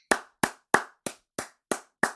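Seven sharp, evenly spaced hand claps ring out alone at a steady, deliberate pace, close and crisp with no voices around them.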